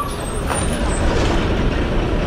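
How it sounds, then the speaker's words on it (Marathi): A bus pulls in at a village stop in rural Konkan, its engine a steady close rumble with a brief hiss of air brakes, no talk over it. "साळकेवाडी संगमेश्वर गाडी आलेली आहे फायनली."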